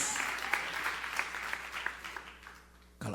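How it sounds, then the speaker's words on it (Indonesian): Church congregation applauding together after a preacher's call, a dense, steady clatter of many hands with a few sharper claps, fading slightly before a sudden loud burst at the end. "Tepuk tangan yang paling meriah buat Yesus."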